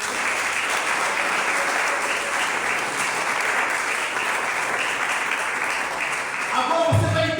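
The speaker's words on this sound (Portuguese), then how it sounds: "Você pode aplaudir para Deus?" A church congregation applauds continuously in a loud, dense wash of clapping that holds steady for several seconds, then a voice begins speaking near the end as the clapping fades.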